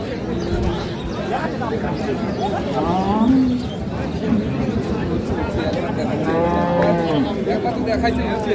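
A dairy cow with her calf at a cattle market moos in several long, drawn-out calls, loud and near, over a crowd of people talking in the background.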